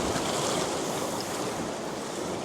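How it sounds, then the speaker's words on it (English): Sea waves surge and wash along a North East England shoreline, a loud, continuous broadband roar of surf up close, mixed with wind buffeting the microphone and no voices. "Try and time it with the tide waves going out."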